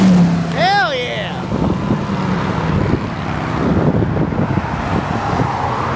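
A Ford Fusion drives past while people leave a car show, its engine and tyre noise rising and falling as it passes close by, with people talking over the traffic noise throughout.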